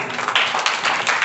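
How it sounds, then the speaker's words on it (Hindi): Students in a classroom clap together, a short burst of dense overlapping claps at close range with a few louder individual hits. "को ताली बजा दो"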